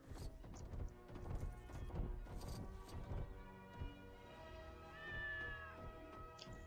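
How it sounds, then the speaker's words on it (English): A cat in the LEGO Marvel's Avengers game meows once, a short rising cry near the middle, amid a busy soundscape of clattering game effects, thumps and background music. "The cat has run out of the barn."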